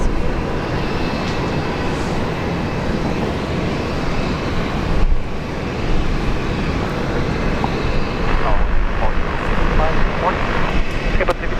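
Jet airliner rolls for takeoff on runway 19 left at Brisbane International Airport, a steady broad engine roar holding loud and even throughout, alone without voices.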